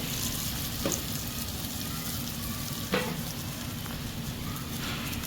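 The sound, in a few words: dahi bhalla fritters frying in pan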